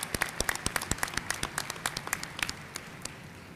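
Audience applause at a college commencement ceremony honoring special guests: steady, fairly quiet clapping from a crowd, individual claps distinct, gradually thinning toward the end.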